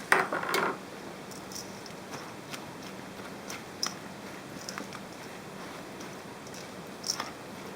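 A spoon clinks and taps against a bowl while tuna patty ingredients, including large pieces of tuna, are mixed together. The faint, sparse knocks come close by, with a brief scraping rustle at the start and soft background hiss.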